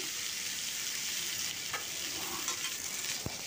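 Potatoes with cumin seeds and salt are stirred in a hot frying pan, giving a constant close sizzle with soft scraping strokes and a sharper scrape near the end.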